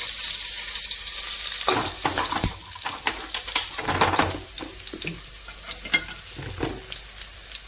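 Ginger, garlic and cumin paste hitting hot oil in a pan sets off a loud, crackling sizzle with bursts of spattering and scraping stirs, close up and with no voices.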